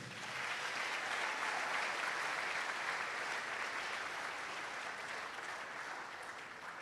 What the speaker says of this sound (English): Let's clap for MTN.